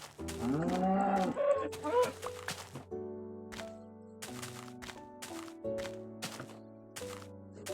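A cow in the beta version of Minecraft moos in long, low, drawn-out calls, a few repeated in sequence, clear and close with soft game thuds around them.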